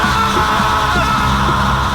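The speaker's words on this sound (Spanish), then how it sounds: "Un grito africano de terror sonó en la montaña." A loud, sustained scream of terror on a mountain, raw and held for a couple of seconds without a break, as in a spooky Halloween tale.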